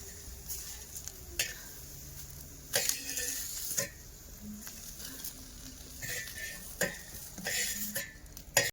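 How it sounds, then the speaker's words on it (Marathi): Chickpeas roasting in a pan are stirred and tossed, producing soft scraping and rattling bursts with faint sizzling underneath, quiet and close, with irregular gaps between strokes. "हरभरा भाजायचं चाललं होतं."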